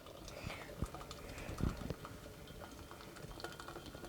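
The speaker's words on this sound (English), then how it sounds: "So we're gonna pour to about here. And we love our gooseneck kettle." Water streams from a gooseneck kettle into a vessel for iced tea, a soft, steady trickling and bubbling pour with a few small knocks, faint and close.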